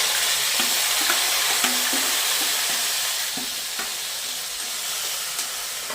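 Tomatoes fry with garlic and green chillies in a pan for baingan bharta, a steady bright sizzle with light stirring taps and scrapes throughout, no talking.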